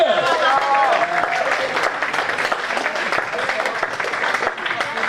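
A church congregation claps loudly and continuously, a dense close wash of applause with voices mixed in throughout.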